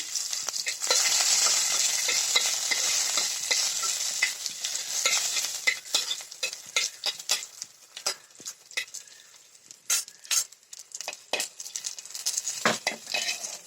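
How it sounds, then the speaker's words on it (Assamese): Garlic and chilies sizzle and crackle steadily in hot oil close by, with occasional scrapes and clinks of a utensil stirring in the pan. "এতিয়া আমি নহৰু আৰু জলকীয়া ইয়াতে আগতে অকণমান ফ্ৰাই কৰি ল'ম।"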